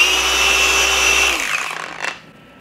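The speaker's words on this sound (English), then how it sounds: "let's grab this and the polisher, and let's just do a little test spot here" A car polisher runs on a test spot of white paint, giving a steady, close mechanical whine for over a second before it spins down and fades, followed by a brief clatter.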